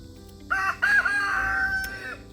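A backyard rooster gives a single full crow, clear and moderately close, rising in two bursts and then holding a long drawn-out note over faint background hum.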